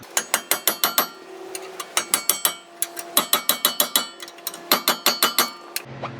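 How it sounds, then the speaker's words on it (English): A ratchet tightening the bolts on the front brake caliper of a 2006 Nissan Frontier, sharp close clicking in fast bursts of several strokes separated by brief pauses. "Tighten up the bolts."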